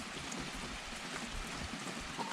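Steady rain patters evenly on surfaces, a continuous soft hiss at moderate volume with no voices.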